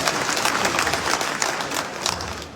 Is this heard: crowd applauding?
yes